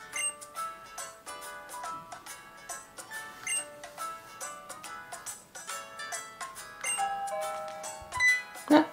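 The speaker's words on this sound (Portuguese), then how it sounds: "Ah, alguém tocou a campainha." Doorbell chime in the video game Pokémon Sun, ringing as bright bell-like tones amid a busy run of melodic game music notes, moderately loud with no talk.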